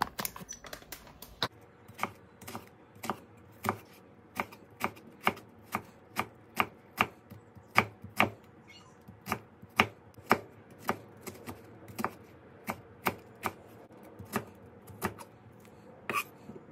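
Onions being chopped on a cutting board for pork sisig, a steady run of crisp, close knife knocks repeating about once per half second, with no talk.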